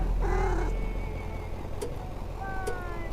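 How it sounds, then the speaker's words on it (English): A house cat meows twice, short clear calls near the start and end, over a low steady rumble that may be purring, close and fairly loud. "the cat purrs like my cat"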